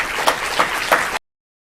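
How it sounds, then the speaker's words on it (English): Brief applause from an education summit audience, fairly soft clapping with a few distinct claps before it cuts off abruptly to silence. "Give yourself a round of applause."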